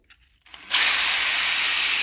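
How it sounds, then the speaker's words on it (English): Electric drill clamped in place as a makeshift lathe for sanding a small hot rod front axle part spins up after a faint start, then runs at a steady loud high-pitched whine. "clamp the drill so it's running"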